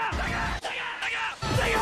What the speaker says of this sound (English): Iconic ads like the Sega Scream